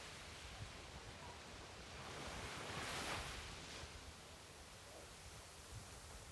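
Small ocean waves wash against the shore in a steady broadband surf hiss, swelling to a louder break midway before settling back, with wind buffeting the microphone throughout and no voices.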